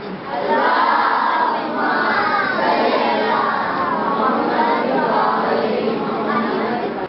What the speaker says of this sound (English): Let's have a loud breathe.